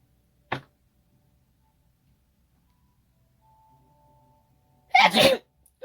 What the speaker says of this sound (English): See, I told you I had to sneeze.